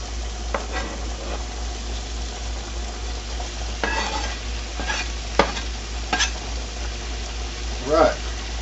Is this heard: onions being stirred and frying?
yes